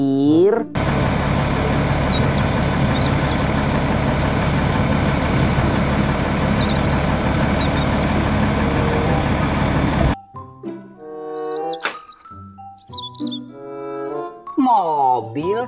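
A toy sand truck plays a continuous loud electronic engine-and-jingle sound for about nine seconds, ending abruptly, followed by a voice speaking.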